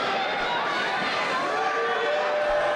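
A wrestling crowd at a live pro wrestling show cheers and roars for Jack Price, a steady wall of voices filling the arena without letup.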